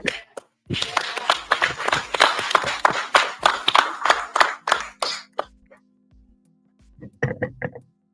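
A small group at a village board meeting claps for volunteers in a few seconds of sparse, uneven hand claps that quickly fade out, followed by a brief spoken voice.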